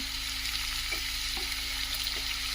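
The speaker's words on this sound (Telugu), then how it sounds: "ఇవన్నీ బాగా వేగే వరకు కలుపుకోవాలి" Prawn and gongura curry with onions frying in a pan, a steady broadband sizzle with a few faint scrapes of stirring, continuous and close, no talking.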